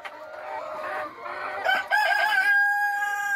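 Hens cluck close by in a coop, then a rooster crows loudly near the end, its long call overlapping the clucking.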